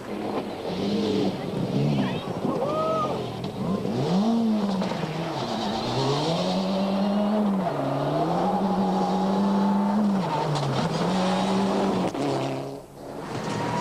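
A Mitsubishi Lancer Evo rally car slides through a corner just after the start of a rally, its engine loud and close, revving up and down with a rising and falling wail over tire and gravel noise.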